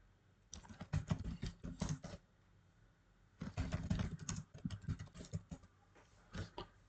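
Someone types a command on a computer keyboard, producing close, clicky keystrokes in two quick bursts separated by a pause, plus a few final taps, with no talk.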